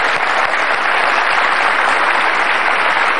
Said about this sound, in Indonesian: Kasih tepuk tangan untuk Bibip.